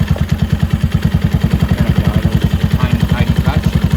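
A Venom 250cc Villain chopper motorcycle, revived after two years of sitting, runs at a steady idle with a loud, rapid, even engine thump throughout, close by.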